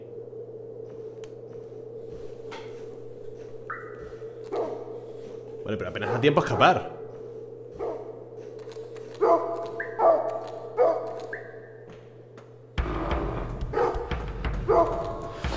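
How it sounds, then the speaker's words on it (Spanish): Dog barks in the dark retro sci-fi adventure game Full Void, a starving or zombie-like dog giving several sharp bursts over a steady in-game drone and music, with someone talking over them. "Pero no entiendo si es un perro zombie o es un perro famélico"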